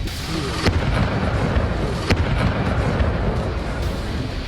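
Explosions from Russian attacks in Kharkiv, Ukraine, heard as a continuous loud rumble with two sharper blasts cutting through the dense roar, no voices.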